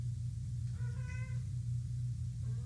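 A cat lets out a single drawn-out meow, close and moderately loud, over a steady low hum in a quiet room.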